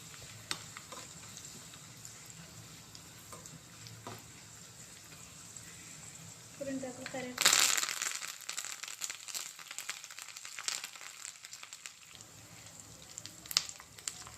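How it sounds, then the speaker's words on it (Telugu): Oil crackles and sizzles in a pan, a sudden loud burst of spattering as tempering spices drop in, then settling into steady frying hiss. "పోపు అయితే బాగా యాగనివ్వాలి"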